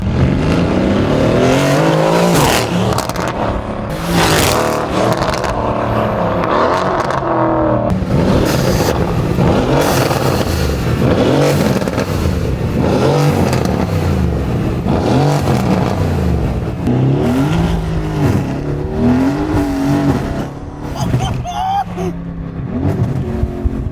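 A straight-piped Mercedes AMG C63s engine revs hard and loud up close, its aggressive exhaust rising and falling through repeated bursts of throttle with crackling edges, sustained over roughly twenty seconds with no talking.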